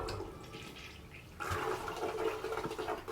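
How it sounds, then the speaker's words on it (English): A household toilet flushes nearby with a sudden rushing surge of water that starts after a quiet moment and continues as a steady loud gush, with no talk. "So flush the toilet."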